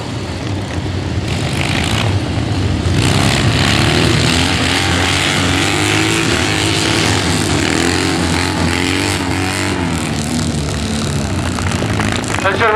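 Triumph Tiger 750 motorcycles ride in a White Helmets display, their engines a loud, continuous drone with rising and falling revs throughout, crowd and arena noise blending in the background.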